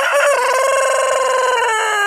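A rooster on a farm crows one long, wavering call that breaks between pitches like a yodel, loud and close, with no voices.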